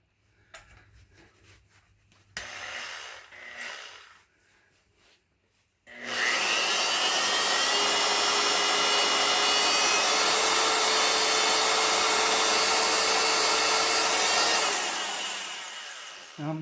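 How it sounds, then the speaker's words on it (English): A loud, steady power drill boring into a soft cast-metal part of a GM 2.4 Twin Cam engine continuously for about ten seconds, preceded by quieter clatter and brief bursts of noise. "I'm leaning on that drill pretty hard, but you know, the cast is nice and soft."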